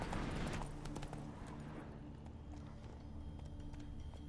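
Horse hooves clip-clop steadily in The Witcher 3, a loaded horse trotting with a dense rhythmic patter, loudest at the start and continuing at a steady level beneath a low ambient drone.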